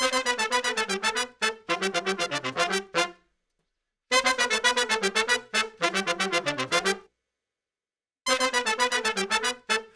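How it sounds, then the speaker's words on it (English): Horns play rapid staccato sixteenth notes in unison, in short bursts separated by brief silences, bright and close. "we've got this other horn section playing this 16th note unison line"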